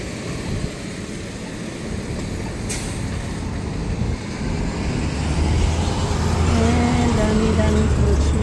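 Heavy road traffic with many cars on a long, busy stretch of El Camino, a broad rumble of engines that builds louder midway, with a low heavy-vehicle drone near the end and a voice heard over it.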